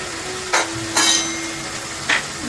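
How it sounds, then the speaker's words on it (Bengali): Spice paste of cumin, coriander, turmeric and chilli powder being sautéed in a pan for chicken kabsa, a soft steady sizzle broken by three sharp scraping stirs of a spoon against the pan. "দিয়ে আমি মশলাটি ভালোভাবে কষিয়ে নেব। মশলাটি কষানো চলছে।"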